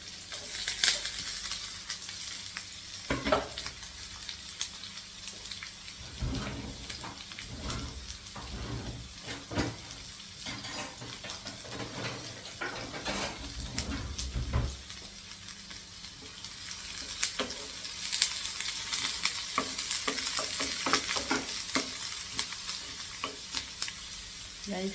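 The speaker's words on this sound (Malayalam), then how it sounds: "നമ്മുടെ ഉള്ളി മൊത്തം നമുക്കിനകത്തോട്ട് വാരി ഇട്ട് കൊടുക്കാം" Chopped onions tipped into a non-stick pan of hot oil with popped mustard seeds, frying with a steady loud sizzle and intermittent stirring scrapes and clatters from a ladle throughout, with no talk.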